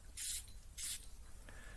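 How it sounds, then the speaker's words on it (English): Two short bursts of perfume spray from an atomizer onto a hand, close by, each a quick airy hiss with a brief pause between them, then quiet. "I'm just gonna spray it on my hand."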